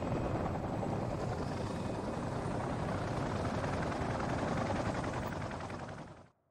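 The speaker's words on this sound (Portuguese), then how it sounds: "Parece que o helicóptero está bastante manobrável" A helicopter in the video game Call of Duty 4: Modern Warfare gives a loud, sustained rotor roar with dense chopping texture that holds steady, then cuts off sharply at the end.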